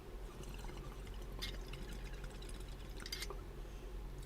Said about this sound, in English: I think I got just the right amount of water in there.